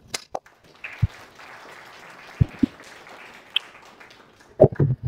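A seated audience at a French expert conference on the dangers of mobile phones for children applauds. The clapping is light and scattered, with sharp individual claps over a soft wash of hands and no speech.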